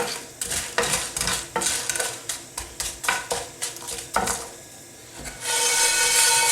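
Quick scraping and rubbing strokes of a utensil turning Kashmiri chillies in a frying pan, in an irregular rhythm of short bursts, ending in a steady sizzle.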